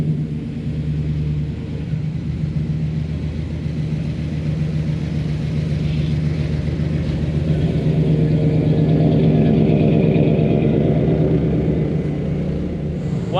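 An old vintage motorhome's engine rumbles steadily while driving down the road, a loud, continuous low drone with a slight swell in revs partway through.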